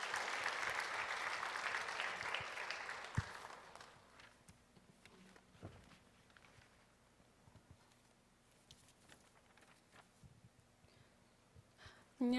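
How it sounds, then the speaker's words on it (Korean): Applause from a church young adults' worship congregation, a broad wash of clapping filling the room for about four seconds, then fading out into quiet room tone with scattered small knocks. "우리 박수로 한번 격려해 주시기 바랍니다"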